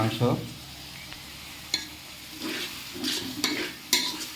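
Chopped onions and meat stir-fry in a large pot for biryani, with bursts of sizzling and the repeated scrape and clank of a spatula against metal. A brief voice is heard near the start.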